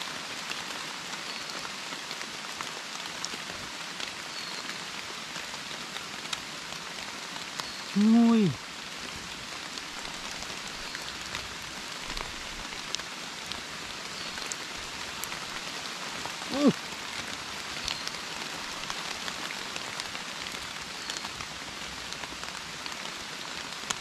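Rain falls steadily while mushrooms are gathered outdoors, a continuous soft hiss of drops on surfaces that stays even and fairly faint throughout, with someone briefly speaking at a couple of moments.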